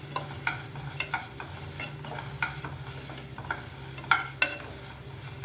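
Dal being dry-roasted and stirred in a pan until evenly toasted but not burnt, with a steady soft sizzle and repeated scraping, clinking strokes of a utensil against the pan, close and moderately quiet, no talking.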